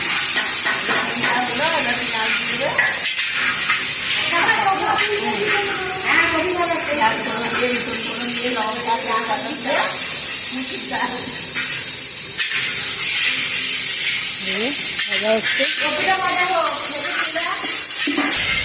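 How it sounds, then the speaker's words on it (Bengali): Cauliflower frying in oil in a wok, a steady hiss and sizzle with stirring scrapes running the whole time while a voice talks over it. "এখানে কপি ভাজা হবে"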